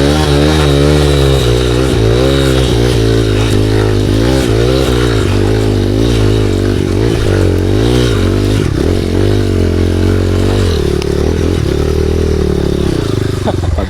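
An enduro motorcycle engine labors loudly and continuously climbing uphill through a forest, its drone rising and falling as it strains under load, with some rattling clatter.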